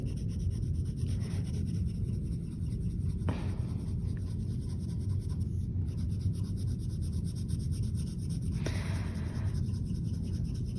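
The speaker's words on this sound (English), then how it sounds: "I'm just doing circular motions with my pencil so I can get all the space filled with color." A pencil colors paper in steady circular motions during an arts and crafts session, producing a continuous close scratchy rubbing with a few brief sharper strokes, with no talk heard.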